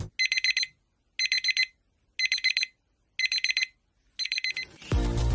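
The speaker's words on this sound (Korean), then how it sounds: "실제 알람 소리." A Daiso kitchen timer beeps in five evenly spaced bursts of rapid high-pitched pulses, loud and clear, with a louder noise cutting in at the end.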